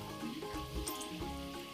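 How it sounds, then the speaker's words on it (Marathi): Potato pieces for crispy french fries being half-fried in hot oil, a faint, steady bubbling sizzle with soft popping over a short stretch. "आता आपण या फोडी तेलात तळून घेऊ."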